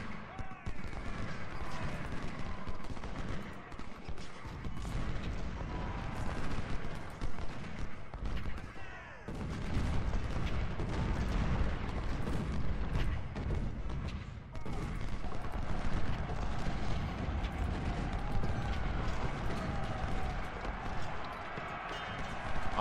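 Booming artillery and crackling musket volleys roll continuously in a Civil War strategy game battle at Nansemond River, a dense, loud din with a voice talking over it.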